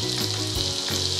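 Garlic frying in a pan, a steady, close hiss and crackle of sizzling oil lasting about a second, with no voices.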